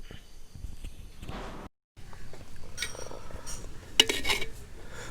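Beef dum biryani being stirred in a pot with a metal spoon gives soft scraping and clinking, then a brief pause and a sharper clatter of utensil against the pot.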